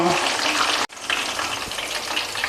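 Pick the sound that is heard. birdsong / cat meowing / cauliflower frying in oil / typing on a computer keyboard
cauliflower frying in oil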